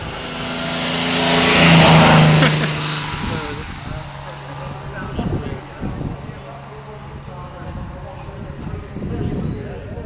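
A racing car engine revs hard and swells to a loud peak early, then fades into lower engine noise and passing whooshes while people talk over it.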